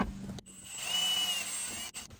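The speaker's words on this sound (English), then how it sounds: "I'm going to drill another hole right there" A power drill bores a hole in the dash panel of a GM truck, giving a steady close whine for about a second and a half between brief pauses, with no talking.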